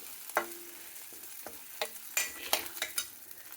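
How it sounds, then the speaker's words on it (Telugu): Ginger garlic paste sizzles in a pan while a spoon scrapes and stirs it, giving irregular sharp clinks over a soft steady frying hiss, close and without voices. "ఇది అల్లం వెల్లుల్లి పేస్ట్లో వేస్తున్నాను"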